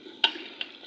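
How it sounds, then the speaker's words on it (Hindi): Meat frying with onions in a pot for a Pakistani dish, a steady soft sizzle with two quick stirring scrapes, close and alone. "गोश्त को हम कर लेते हैं फ्राई इन प्याज़ों के साथ"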